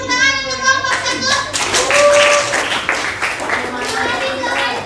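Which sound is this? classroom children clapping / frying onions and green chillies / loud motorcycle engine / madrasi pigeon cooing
classroom children clapping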